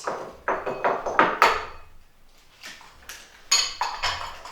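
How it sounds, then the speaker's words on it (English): Eggs are cracked against a mixing bowl in a school kitchen cooking contest for a cake mixture, giving clustered taps and clinks of shell on the bowl rim with short pauses between. "Maybe you'd like to crack the eggs for me."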